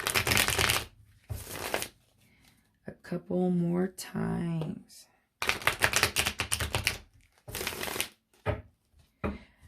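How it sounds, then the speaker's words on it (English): A tarot deck is riffled and shuffled in several quick bursts of dense rapid flutter, close up, with a brief voiced sound between the bursts. "shuffle this one a couple more times"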